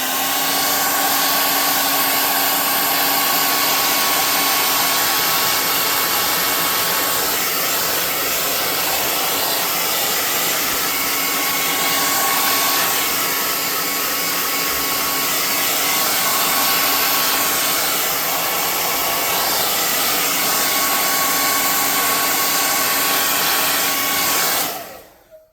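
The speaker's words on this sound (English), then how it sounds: "we're going to hit this with the air gun real quick and see how it looks" A hot air gun blows steadily to dry a craft piece, a loud, close, continuous whooshing roar that holds for the whole stretch and then cuts off.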